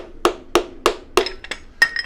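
Six sharp wooden taps at a steady pace, a hammer handle knocking a piston into an engine cylinder, close and fairly loud with short ringing after each hit.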